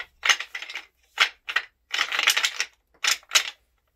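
Wooden dowels cut in half and rattled inside a zipped bag to imitate bucks fighting, giving sharp clattering bursts in irregular clusters separated by brief silences, close and loud.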